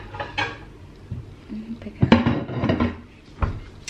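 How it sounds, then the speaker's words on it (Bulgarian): Ceramic plates being picked up and set down while dishes are washed, with several irregular clinks and clatters at close range and a few soft knocks between them. "Сега взимаме втора чиния"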